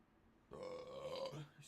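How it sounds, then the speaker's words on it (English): A streamer lets out a long, throaty burp close to the microphone after a brief silence, with a little voice at the tail end. "I have to burp."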